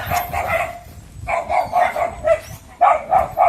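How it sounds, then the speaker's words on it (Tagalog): Several dogs bark in repeated bursts, sharp yips clustered together, fairly close and loud over a busy background. "Sobrang daming aso talaga dito."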